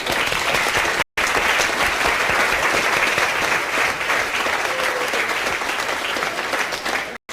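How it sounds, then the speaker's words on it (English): Loud, close audience applause after a weight-training lecture, a steady dense roar of clapping with two very brief gaps, sustained for several seconds without speech. "Give yourselves a round of applause"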